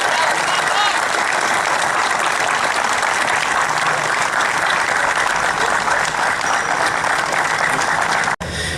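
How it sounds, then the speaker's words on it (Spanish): An audience at a party anniversary event applauds loudly and steadily for several seconds, then the clapping cuts off abruptly near the end. "Daniela Paisé, a la compañera Daniela Paisé, con un aplauso grande y fuerte que le llegue."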